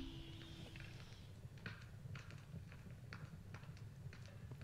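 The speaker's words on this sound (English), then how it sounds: "Sounds like footsteps" Ambient intro of a song, where faint rhythmic footsteps or clip-clop-like steps tap repeatedly over a low, dark droning background.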